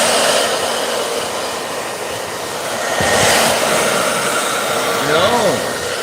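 A heat tool blows steadily to rapid-dry wax pastel artwork, giving a close, continuous whooshing roar that swells slightly midway, with a few faint tonal chirps near the end.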